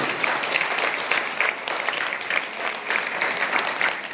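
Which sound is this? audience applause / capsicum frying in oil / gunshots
audience applause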